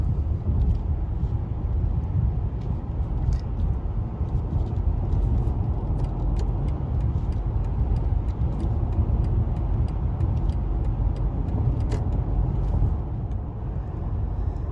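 Inside a BMW i5 electric car gently accelerating on a highway, a steady, loud road and tyre rumble fills the cabin without a break, and no voices are heard.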